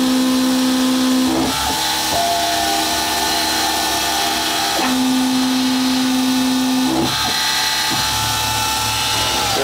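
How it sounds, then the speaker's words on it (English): A CNC machine drills three center drill holes in a workpiece, giving a steady motor whine with three distinct tonal stretches as each hole is cut, and the machine noise stays constant throughout with no talking. "Gonna do three center drill holes."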